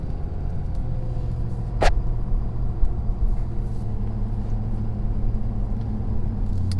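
A 2019 Ford F-350 with the 6.7 engine cruises on the road, a steady low rumble of engine and road noise heard from inside the cab, with one brief sharp sound near the start.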